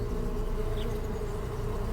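A swarm of bees produces a steady, close, continuous buzz with a faint higher whine drifting through it.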